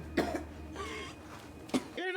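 A person coughs twice, short and close, followed by a brief throat-clearing sound, over a quiet background.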